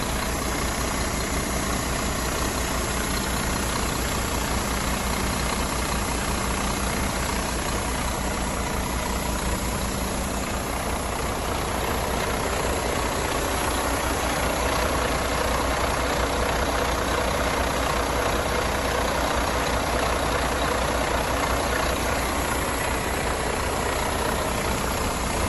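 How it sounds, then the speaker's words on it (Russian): A large Iveco Cursor 10 truck diesel engine, from a 2002-2006 Stralis, idles continuously, a steady close rumble with an even mechanical churn that barely changes throughout. "Работа двигателя на холостых оборотах."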